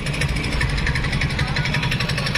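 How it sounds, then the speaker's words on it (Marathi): A 7 hp engine on a chain cultivator runs close and loud, a steady rapid chugging with even mechanical pulses and rattling vibration that holds constant throughout. "हे सात एच पीचं इंजिन आपण याला जोडलेलं आहे"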